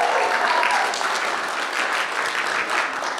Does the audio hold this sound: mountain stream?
no